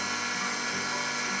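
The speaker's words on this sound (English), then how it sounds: "Yes, that's right. It's a blender." A kitchen blender whirs steadily at close range, a loud, continuous motor drone with a bright, buzzy high end and no pauses or voices.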